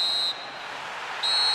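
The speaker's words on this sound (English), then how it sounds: "There's the whistle for half-time." In a football video game, the referee blows a sharp, high whistle for half-time in two shrill blasts separated by a short gap, over a steady crowd roar.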